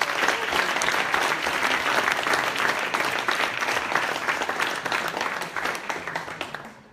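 Audience applause at a lightning-talks tech event, a dense, steady burst of many hands clapping that holds for several seconds and then tapers off at the end, with no speech over it.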